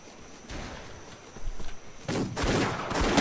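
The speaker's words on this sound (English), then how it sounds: "he's shooting us" Gunfire rings out in a Wild West video game: scattered soft shots at first, then a loud, dense volley of rapid reports in the final second.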